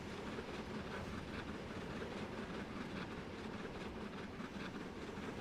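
A locomotive runs along the rails in Trainz Simulator 3, a dense, steady rolling rumble with faint rhythmic clatter, continuous and moderately quiet.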